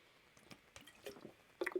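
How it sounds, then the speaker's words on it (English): A person takes a swig of water, with soft wet gulps and a few small liquid squishes, quiet and close, with no talk. "Swig of water for the workman."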